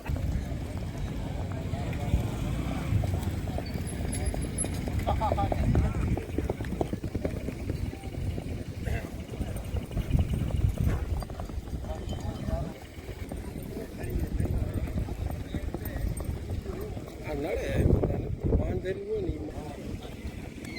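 Horses trot at a horse race, their hooves clip-clopping steadily under gusty wind noise while a voice talks over the scene.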